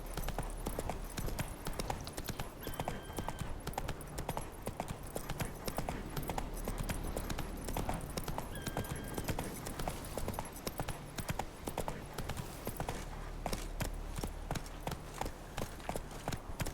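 Geralt's horse Roach trots steadily in The Witcher 3, a continuous rhythmic clip-clop of hooves over faint ambient game sound, heard alone.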